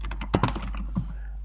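Keys on a computer keyboard are tapped while entering a heading in a OneNote Online page, a quick cluster of close, crisp clicks followed by a few scattered keystrokes over a steady low hum.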